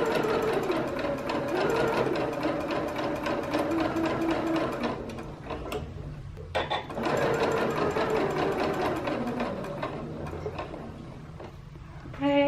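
A sewing machine runs in steady, close whirring stretches while stitching a T-shirt neckband, with a brief pause in the middle and faint handling noises.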